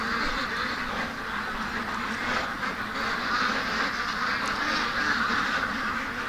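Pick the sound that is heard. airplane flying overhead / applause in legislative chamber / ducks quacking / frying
ducks quacking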